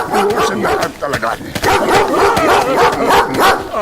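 A dog barks repeatedly and loudly, close by, in a rapid series of yips mixed with people shouting over it.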